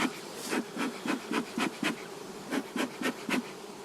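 Honeybees buzzing close by in rapid, pulsing bursts, a dense insect hum swelling and fading repeatedly with no talking.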